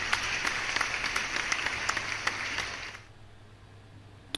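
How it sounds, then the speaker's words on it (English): Applause from a radio show's studio or audience, a dense wash of clapping that stays steady and moderately loud for about three seconds, then drops to a quiet room hum. "so give a round of applause to me."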